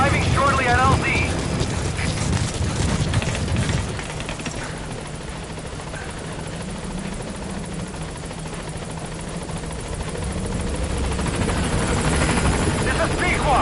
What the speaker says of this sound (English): This is Pequod. Arriving shortly at LZ.